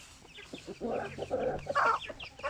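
Hens cluck softly in a few short bursts, close by, with a louder run of clucking near the end.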